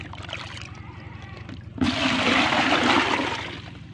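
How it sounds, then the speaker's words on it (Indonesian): Water being scooped from a Daphnia magna breeding tank, a low rumble of handling giving way to a sudden loud rush and splash that pours steadily for a couple of seconds, close by. "Sekarang akan saya ambil airnya ya."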